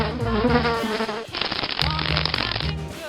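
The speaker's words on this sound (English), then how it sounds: "Fly." A housefly buzzes loudly near at hand, the whining drone rising and falling and briefly breaking into a harsher rasp, with no talking.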